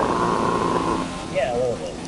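An F1 car in the F1 2017 racing game burbles and crackles off the throttle, a rough, rumbling engine note running under continuous talking.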